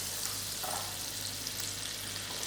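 A 50 gram knob of butter melting with a dash of olive oil in a pan on moderate heat, giving a steady, soft, continuous sizzle with no voices.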